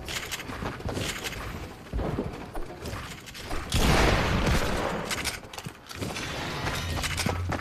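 Rapid bursts of gunfire in a shooter video game crackle loudly and continuously, mixed with mechanical clatter and a heavier blast midway.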